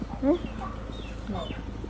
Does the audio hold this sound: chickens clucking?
yes